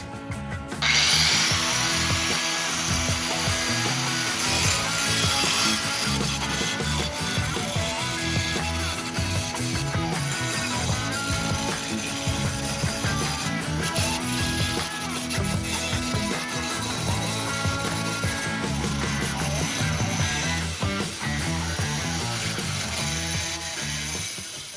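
Loud, sustained angle grinder grinding on rusted Model A Ford hot rod pillar metal, a close, harsh, continuous whir with slight pitch shifts as pressure varies, running nearly the whole stretch without talk.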